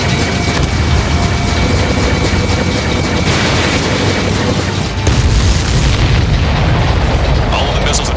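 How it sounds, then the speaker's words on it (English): Missiles explode in Ace Combat 7 with heavy, loud booms and rumbling blasts over continuous jet roar, while a voice talks underneath. "All of the missiles have been destroyed."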